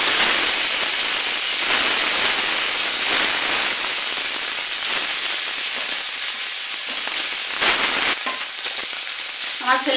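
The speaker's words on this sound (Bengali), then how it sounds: "এই জন্য মাছটা আমি ভেজে নিচ্ছি।" Koi fish fry in hot soybean oil with a loud, dense, continuous sizzle and spatter that holds steady throughout, with a few crackling bursts near the end.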